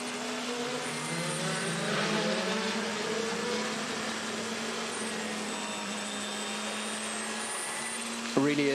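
Le Mans race car engine at the 24 Hours of Le Mans, driving through the Porsche curves: a loud, sustained high-revving drone with shifting pitch, holding steady throughout and ending in a sharp jump in level.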